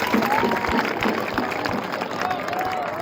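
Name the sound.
audience applause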